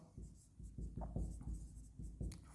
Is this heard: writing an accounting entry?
yes